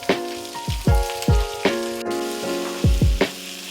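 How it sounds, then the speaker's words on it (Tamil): Onions and green chillies fry in hot oil in a pan for a cabbage stir-fry, with a steady sizzle punctuated by several sharp metallic scrapes and clanks of a stirring spoon. "வெங்காயம் ரொம்ப நல்லா வதங்க வேண்டாம், இந்த அளவுக்கு வதங்கினா போதும்."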